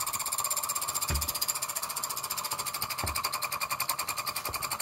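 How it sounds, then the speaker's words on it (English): A prototype Newman motor runs while charging a nearly dead battery, producing a fast, even, buzzing mechanical pulse like a sewing machine, close and steady, with a few dull knocks underneath. "here's my prototype Newman motor, and I believe I have it hooked up correctly to charge this battery"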